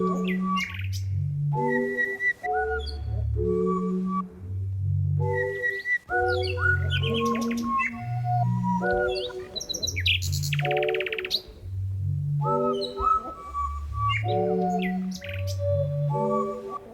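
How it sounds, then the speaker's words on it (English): Bright chirping birdsong in repeated tonal phrases, with clear whistled notes and trills layered over a low rhythmic tonal pattern, loud and close. "praise be to the language of birds"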